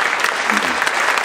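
A brief burst of audience applause for volunteers at a live presentation: many hands clapping together in a dense, lively patter that is close and fairly loud.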